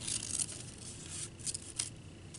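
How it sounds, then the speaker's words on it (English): Scissors snipping down the middle of a spiral shape cut from paper, a few close, soft crisp snips spaced across a quiet background. "I'm just cutting right down the middle of that spirally shape I cut"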